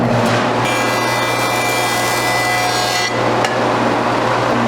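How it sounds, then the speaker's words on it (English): A jointer planes the edge of a wooden board, giving a loud, steady, close-up machine drone and cutting roar that holds throughout with a brief change in tone midway. "it took a handful of passes through the jointer to clean up that edge"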